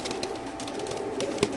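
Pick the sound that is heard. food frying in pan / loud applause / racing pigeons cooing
racing pigeons cooing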